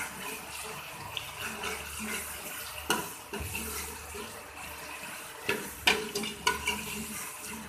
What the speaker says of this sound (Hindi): अब हम इसे थोड़ी देर भून लेंगे।